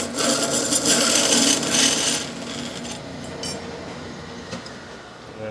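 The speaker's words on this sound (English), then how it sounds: "Now I'm going to cut it to length." A copper piece for a Case 1840 skid steer restoration is cut to length with a hand saw, giving close rasping strokes that are loudest at first, then fade to lighter scraping and a few small clinks.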